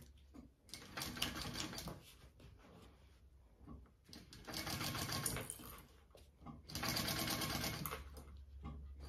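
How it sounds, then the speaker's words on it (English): Sewing machine top stitching a handbag panel, running in three close bursts of rapid mechanical stitching separated by short pauses. "I'm going to top stitch on the bottom part of this panel."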